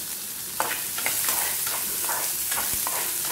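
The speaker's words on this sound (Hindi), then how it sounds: "काली सरसों भी अच्छे से क्रैकल हो रही है" Black mustard seeds and chana dal crackle and sizzle in hot oil, with a steady frying hiss broken by repeated quick pops and a few spoon scrapes, close and fairly loud with no talking.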